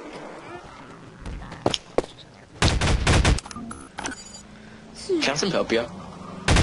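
Gunfire in the sandbox video game Garry's Mod: loud bursts of shots, some rapid like automatic fire, interrupted by single cracks, mixed in with people talking and shouting over the action.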